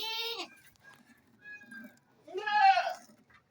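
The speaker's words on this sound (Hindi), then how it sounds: "गबन बकरी है।" A pregnant goat with previously deformed front hooves bleats in several wavering calls separated by pauses, close by and otherwise quiet.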